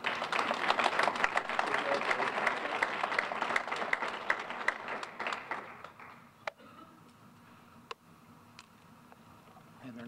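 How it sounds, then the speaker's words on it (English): Audience applause for the final award recipient at an employee recognition ceremony, dense clapping for about five seconds that thins to scattered claps and fades, with a few isolated taps after. "Not just clapping because you're the last."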